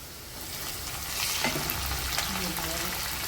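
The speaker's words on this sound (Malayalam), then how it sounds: "വട്ടത്തിലരിഞ്ഞ് കനം കുറച്ച് വട്ടത്തിലരിഞ്ഞ് ചെറിയ ഉള്ളി ഇട്ടേക്കട്ടെ" Thinly sliced rounds of small shallots frying with garlic in hot oil, a broad continuous sizzle that swells louder midway as they hit the pan, with a few stirring knocks and no talk.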